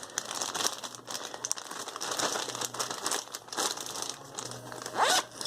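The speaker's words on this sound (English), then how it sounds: "you take this and you put it inside of one of these plastic bags" Greasy waste being stuffed into a plastic bag gives continuous crinkling and crumpling of plastic, close and fairly steady, with a sharper rustle near the end.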